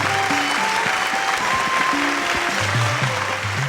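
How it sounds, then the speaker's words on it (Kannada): A studio audience at a Kannada television quiz show claps loudly and continuously, a dense wash of applause with steady musical tones running beneath it. "ಜೋರಾದ ಚಪ್ಪಾಳೆ ಬರಲಿ."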